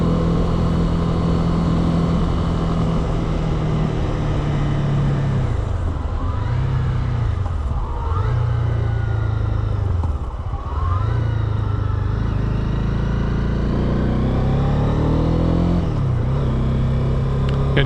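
A Honda CB300R motorcycle rides along quiet back lanes, its engine droning steadily and loudly throughout, with the pitch dipping and rising through several gear changes and throttle shifts near the middle.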